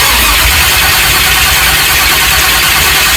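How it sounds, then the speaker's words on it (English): A Chevelle engine cranks with the key on, a loud, close, continuous grinding churn that holds steady throughout without a clear catch or change. "Go ahead and try to crank it."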